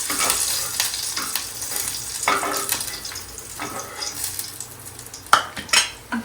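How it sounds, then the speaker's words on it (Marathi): Green chillies and garlic roast in a pan with a continuous close sizzle, and a spoon scrapes and clinks against the metal now and then, with a couple of sharper knocks near the end. "मिरच्या जास्त नाही भाजायच्या लगेच सरपल्या जातात थोड्याशाच भाजायच्या"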